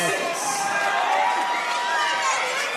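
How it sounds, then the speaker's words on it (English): Packed arena crowd at a heavyweight boxing fight at Perth Metro City, a steady wash of chatter and cheering that fills the whole stretch, with a voice speaking over it. "crowd is absolutely jam-packed here at Perth Metro City"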